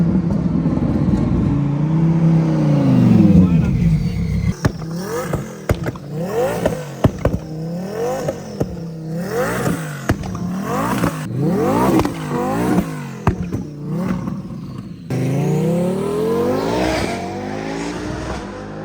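Twin-turbo Lamborghini on the German Autobahn, loud and close, revving hard through repeated upshifts with sharp gear-change cuts and rising engine pitch, roaring continuously with no talk.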